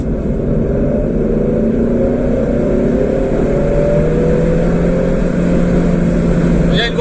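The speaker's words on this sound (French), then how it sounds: "Je fais pied au plancher maintenant." A car engine pulls hard at full throttle in third gear, heading out of a village, its note rising steadily and loud throughout with the droning rumble of the cabin underneath; a voice speaks over it.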